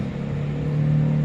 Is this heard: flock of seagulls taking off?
no